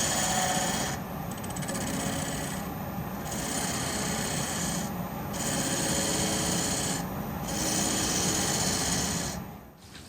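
Steady close scraping and whirring of a hollowing tool cutting into a spinning spalted maple hollow form on a lathe, with rhythmic pulses as the cut repeats, continuous throughout.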